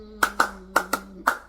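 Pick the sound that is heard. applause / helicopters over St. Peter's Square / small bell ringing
applause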